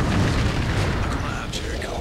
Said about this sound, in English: Fire in the hole! Grenade out!